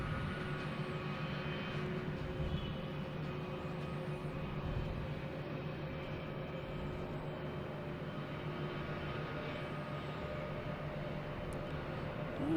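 A jet airliner rolls along the runway after landing at Boston Logan Airport, its engines a steady, distant rumbling roar with faint wind noise throughout.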